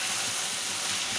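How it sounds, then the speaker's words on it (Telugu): Ivy gourd and onion pieces fry in hot oil with tempering spices, dried red chillies and curry leaves, giving a steady, close sizzling hiss with no talk over it. "కట్ చేసుకున్న దొండకాయలు, ఆనియన్స్, తాలింపు దినుసులు, ఎండుమిర్చి, కరివేపాకు అన్నీ వేసుకొని ఆయిల్లో ఫ్రై చేసుకుంటున్నాను"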